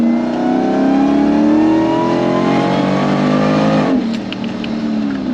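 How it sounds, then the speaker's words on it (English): A supercharged 840 hp Jeep Wrangler accelerates hard, its engine note and supercharger whine climbing steadily and loud for about four seconds before easing off as the revs drop. "I want to show you guys a little bit more of the supercharger wind, do some more acceleration shots for you"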